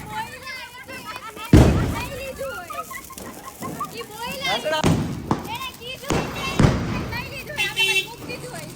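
Firecrackers bursting at a Diwali celebration, several sharp loud bangs scattered through the stretch with crackling and fizzing between them, as people talk and call out over the noise.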